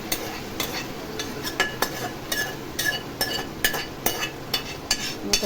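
Marinated chicken sautéed with onions in a pot, a spoon scraping and clinking against the metal in a regular stirring rhythm over a soft continuous sizzle, close and without talk.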